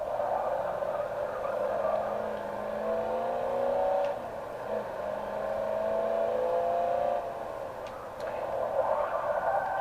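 A 1965 Ford Mustang GT coupe engine drones steadily at high speed, its tone rising and falling slightly as it runs continuously and loudly throughout.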